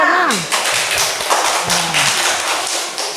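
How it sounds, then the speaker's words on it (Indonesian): A group of people clapping in quick, steady applause, fairly loud and close, with a voice briefly heard at the start. "Tepuk tangan untuk kelompok 6."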